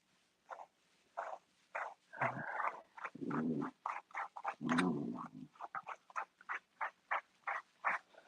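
A long-haired dog whines while its coat is combed: a long series of short, high, close whimpers in a quick rhythm, broken by a few lower, longer groaning cries, with no talking.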